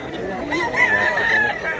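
A rooster crows once in a single drawn-out call at a fighting-cock seller's in Cebu, moderately close, over a background of crowd chatter and nearby voices.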